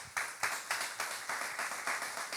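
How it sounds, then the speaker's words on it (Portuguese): A church congregation at a Christmas service claps in a steady, rhythmic beat, about four claps per second, fairly close and even, with no talking over it. "Vamos aplaudir Jesus."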